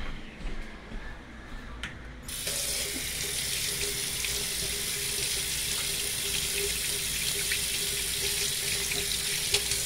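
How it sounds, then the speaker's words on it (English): Hands being washed under a running kitchen tap, a steady close rush of water that starts suddenly after a few quiet seconds and keeps flowing. "I'm gonna go wash my hands off."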